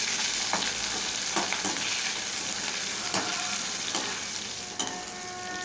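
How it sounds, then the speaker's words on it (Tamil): Curry leaves and tamarind sauté in hot oil with ginger and garlic for a chutney, giving a steady loud sizzle throughout, broken by several sharp scraping stirs of a spoon against the pan. "கருவேப்பிலை, புளி கொஞ்சம் சேர்த்துக்கிறேன். இது எண்ணெயில் நல்லா வதங்கட்டும்."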